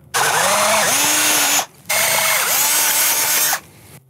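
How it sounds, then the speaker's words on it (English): A power drill bores holes in a metal plate for a clutch pedal mount, two loud sustained bursts of whining motor with pitch dips as the bit loads, separated by a brief pause. "Now I'm gonna drill some holes in it, bolt it up to the clutch pedal."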